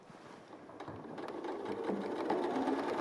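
A sewing machine stitches through fabric near the mic, its steady rapid whir building slightly in speed and loudness over a few seconds, with no talking.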